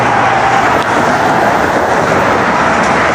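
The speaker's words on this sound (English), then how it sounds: "FDR Drive, traffic moving decently." Road traffic on FDR Drive in New York City, heard from a pedestrian bridge above, makes a loud, continuous broadband roar of passing vehicles with no pauses.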